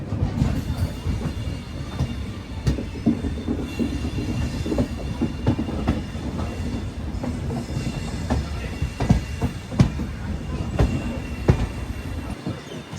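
The Prasanti Express, train no. 18464 running from Bangalore to Bhubaneswar, rolls along the rails with a constant loud rumble. Sharp clickety-clack wheel knocks recur over it, with faint squeals now and then.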